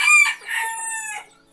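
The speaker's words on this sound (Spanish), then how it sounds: "Creo que escuché un pollito" A single shrill, drawn-out chick peep rings out close by, lasting just over a second.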